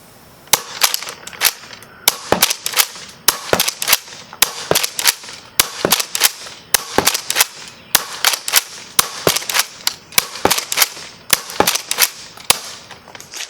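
A modified Nerf Rampatrooper blaster fed from a drum fires darts in a rapid run of sharp, loud snapping pops, close by, about two per second and fairly regular for over ten seconds.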